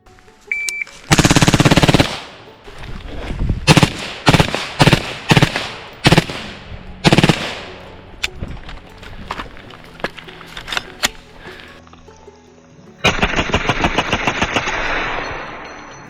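A BCM 14.5 rifle with an A5 buffer system firing outdoors: sharp, loud close-range shots come in quick strings and single cracks with short gaps, and a rapid burst near the end, with no talking.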